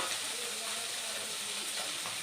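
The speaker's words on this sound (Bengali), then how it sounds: "মাছগুলো আমার প্রায় ভাজা হয়ে এসছে, এবার উঠিয়ে নেব মাছগুলো।" Fish frying in hot oil in a pan, a continuous soft sizzle and crackle heard up close and fairly quiet, with no voices over it.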